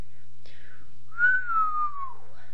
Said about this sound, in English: Jack whistled.